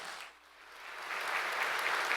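Audience applause at a university presidential inauguration ceremony, a soft, distant wash of clapping that dips briefly and then swells to a steady, even patter.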